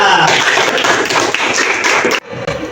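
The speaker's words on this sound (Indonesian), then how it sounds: "Mari kita beri tepuk tangan untuk kelompok 2." Classroom of schoolchildren applauding a student group after its presentation, a loud close burst of dense clapping that stops abruptly near the end.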